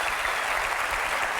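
Dense applause from a crowd, steady clapping filling the brief moment without any voices.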